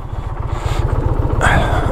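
An Indian Pursuit motorcycle engine runs close by with a steady, pulsing low throb, rising slightly in intensity toward the end.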